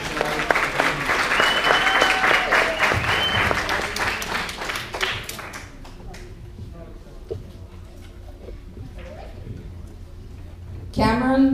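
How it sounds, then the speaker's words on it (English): Applause from a graduation ceremony audience, dense clapping for a few seconds with voices mixed in, then fading to a lower murmur with a steady tone before a burst of noise at the end. "Let's give Rumea a round of applause."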